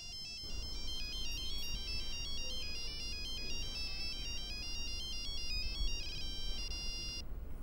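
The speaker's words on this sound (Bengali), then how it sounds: "তোমার তপু ফোন করেছে।" A phone ringtone plays a bright repeating electronic melody, clear and close, over a low background hum.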